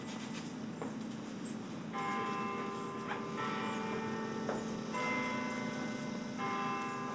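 Bells ring out for the top of the hour at a military guard post, several sustained metallic strikes sounding at intervals with lingering tones over a steady background hum, moderately distant.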